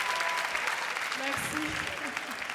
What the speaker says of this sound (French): applaudissez-la très fort, s'il vous plaît.